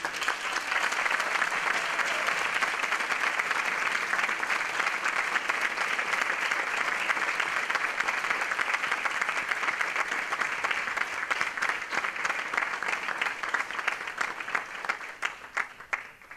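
A concert audience applauds a performer: sustained, dense clapping from a full hall, steady and loud throughout before thinning slightly at the end.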